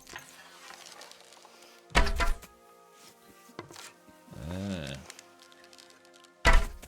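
Arrows thud into an archery target in Kingdom Come Deliverance 2, two sharp, solid wooden thunks a few seconds apart, with a voice talking briefly between them over quiet game ambience.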